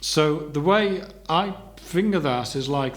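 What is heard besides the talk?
No distinct noise like a dog, phone or traffic.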